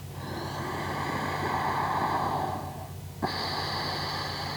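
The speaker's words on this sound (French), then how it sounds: "Respiration sonore." Slow, audible ujjayi yoga breathing with a hushed, ocean-like rasp, held in downward dog pose, a long steady breath easing off before another begins after a short pause.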